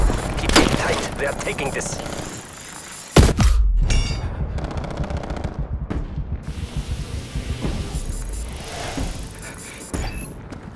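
Incoming artillery in the Call of Duty Cold War video game: one heavy, close boom, then a steady stream of rumbling blasts and rattling gunfire, with a voice talking over the din.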